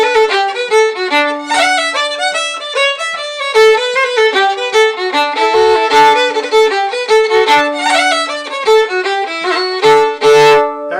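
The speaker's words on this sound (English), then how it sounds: "That's an Irish hornpipe, see?" An Irish hornpipe played on a melodic instrument, a bright, swung, moderately paced tune with clear repeated phrases, loud and close with no talking.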